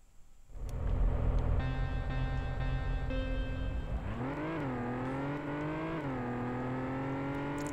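Engine of a BMW 325i in the PS1 racing game Vanishing Point, starting with a whine that revs and climbs in pitch, wavering through gear changes, loud and steady throughout.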